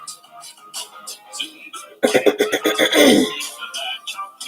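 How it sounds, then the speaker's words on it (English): A person with allergies clears their throat several times in quick, rough bursts, close to the microphone, with some background sound before and after. "I'm gonna be clearing my throat a little bit."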